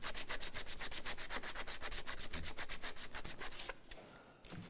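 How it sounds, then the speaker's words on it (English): A wooden cam clamp part is hand-sanded with quick, even back-and-forth rubbing strokes, close and fairly loud, before the rhythm slows and fades near the end. "That's probably close enough for me to sand that now."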